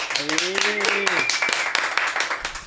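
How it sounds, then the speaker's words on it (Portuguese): Studio audience clapping to welcome a guest pastor onto a Brazilian podcast, a dense burst of hand claps with a voice over it at the start, steady throughout. "Então recebam com forte aplauso Lamartine Pozzella."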